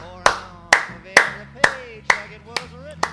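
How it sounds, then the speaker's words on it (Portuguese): Hands clapping in a slow, even rhythm, seven sharp, close claps spaced about half a second apart, ringing briefly against a quiet background with a low hum. "E são palmas."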